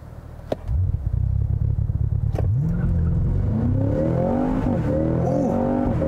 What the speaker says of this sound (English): So let's go ahead and try out the launch control of this vehicle.